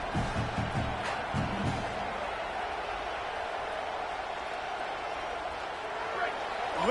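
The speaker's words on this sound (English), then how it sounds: "Listen to this crowd just shaking the girders of this place, trying to help their defense." Stadium crowd roaring in a college football video game, a dense sustained wash of noise that swells toward the end, with a few bursts of announcer talk near the start.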